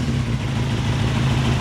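A modified 250 cc motorcycle engine runs close by with a steady, loud, throbbing mid-range drone and pulsing low harmonics, no voices over it.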